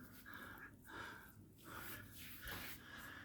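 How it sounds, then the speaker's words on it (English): A dog sniffing close at a camera, quick snorting bursts of breath repeating in short rhythmic puffs, faint and near. "You want to sniff the camera?"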